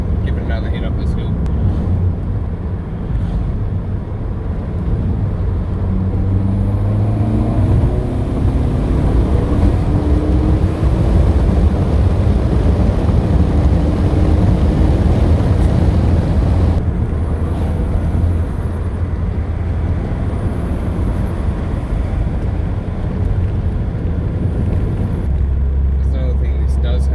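A Ford Focus ST accelerates hard up a hill, its engine droning loud and steady with rising pitch, heard from inside the car for the whole stretch.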